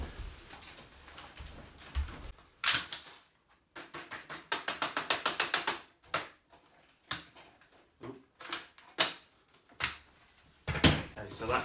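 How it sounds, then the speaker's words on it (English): The dust bin of a Dyson V8 cordless vacuum is emptied, a string of sharp plastic clicks, rattles and taps, including a rapid burst of clatter, with a person's voice talking intermittently between them. "Okay, so that's the Dyson emptied"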